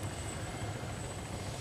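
A Little Bird helicopter in the Arma 3 Altis Life mod produces a faint, steady low rotor drone with a constant whine, heard alone and unchanging over a brief stretch.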